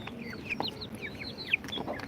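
Country chickens kept on a farm give a flurry of short, squeaky clucks and trilling chirps, one sharp call standing out, heard up close and moderately quiet.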